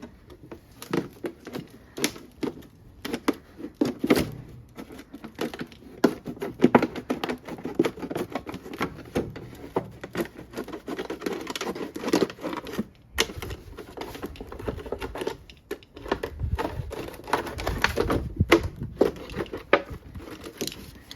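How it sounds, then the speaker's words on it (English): Scissors cutting along a plastic jug container, halfway up, for winter sowing, making a dense stream of rapid clicking, crinkling snips close by, steady throughout with brief pauses. "Then we're going to cut all along the container, about halfway up, but not cutting through the handle."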